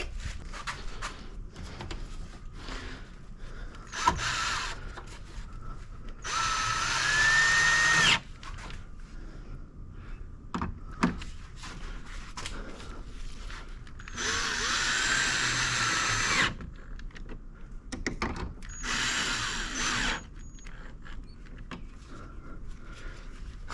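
A power driver snugging headlamp mounting bolts on a Chevy Bolt, heard as several short buzzing bursts between quieter clicks and handling noises, fairly close and not very loud.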